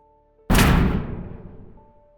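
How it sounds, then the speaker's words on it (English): A single loud, heavy bang erupts suddenly, then rumbles and decays over about a second and a half against a quiet background. "a loud bang hit the garage door like someone had thrown their body against it"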